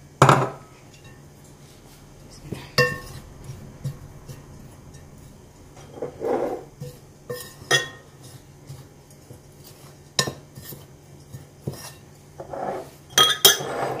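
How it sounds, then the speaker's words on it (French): Sugar and hazelnuts mixed in a bowl for a caramel hazelnut cake, with a spoon scraping and clinking against the bowl in irregular bursts: sharp close taps and short scrapes separated by quiet gaps. "on va mélanger le sucre avec les noisettes"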